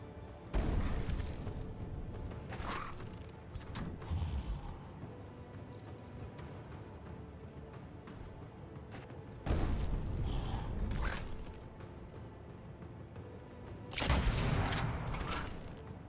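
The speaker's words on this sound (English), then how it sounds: "Let's fire our cannons." Cannons fire in Age of Wonders 4 during a fantasy turn-based battle, heavy booming blasts recurring in several bursts with mechanical clatter between them, loud and close.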